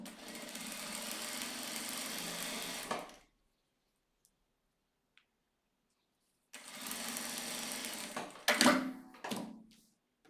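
A sewing machine stitches fabric for a wallet, a steady mechanical whir running for about three seconds, then silence, then a second burst of stitching with a few louder clunks near the end.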